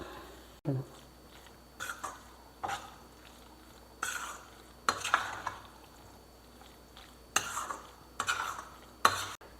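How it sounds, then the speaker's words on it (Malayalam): A spoon stirs and scrapes paneer masala around a pan after the stove is switched off, with irregular bursts of clinking and scraping spaced a second or two apart over a quiet background. "എന്നിട്ട് നമുക്കിത് നന്നായിട്ട് ഇളക്കി യോജിപ്പിക്കാം."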